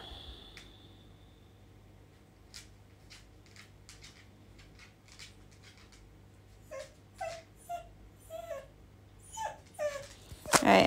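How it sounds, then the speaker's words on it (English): A small dog just up from a nap whines and whimpers in short, rising bursts that grow louder toward the end, close by in a quiet indoor room. "that is my little doggy who has just woken up from his nap and is feeling kind of whiny"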